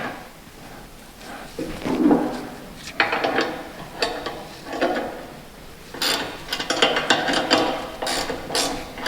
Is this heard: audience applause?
no